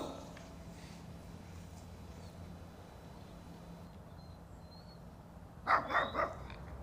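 A loose dog barks near the end, three quick close barks after a stretch of steady outdoor background noise.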